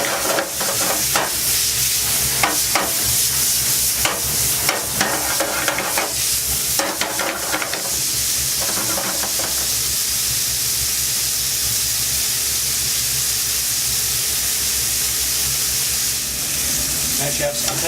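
Bacon sizzling and frying in a pan for coq au vin, a steady loud crackling hiss throughout, with stirring clatter and sharp scraping bursts in the first half, then a smoother continuous sizzle.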